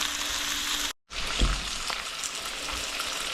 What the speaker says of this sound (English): A little early morning bacon cook